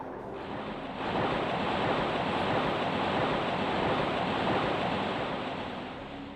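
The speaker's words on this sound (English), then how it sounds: "Loud water warning." Loud rushing water roars steadily in the King's Field video game, a broad wash of noise that surges up after the first second and holds strong before easing slightly at the end, with no voices.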